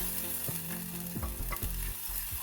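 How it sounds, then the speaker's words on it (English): Yogurt sauce is stirred into golden fried ginger in a hot pan for kadhi, with close, rhythmic spoon scrapes over a steady sizzle and no talking. "And now we will add the yogurt sauce in. Give it a nice stir"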